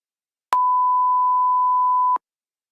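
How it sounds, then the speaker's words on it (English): A police radio emits a single steady electronic beep tone lasting under two seconds, clean and alone, bracketed by sharp clicks at its start and end. "make a beep tone"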